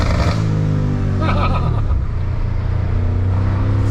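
A BMW M5 F90 with a 4.4-litre twin-turbo V8 revs loudly close by, its exhaust crackling and popping between surging engine notes.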